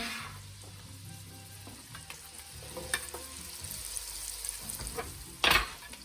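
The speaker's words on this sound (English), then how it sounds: "Yeah, you hear that sizzle? Love that sizzle." Onions sizzle and crackle in a hot pan, with faint stirring and clinks of utensils, ending in a brief louder burst of sizzle.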